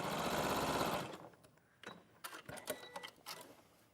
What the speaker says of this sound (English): that's how you sew all of your strings down